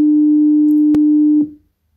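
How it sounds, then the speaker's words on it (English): A steady 300 Hz pure sine tone plays alone, loud and unwavering for about one and a half seconds before cutting off, with a brief click partway through. "Let's go 300 cycles per second."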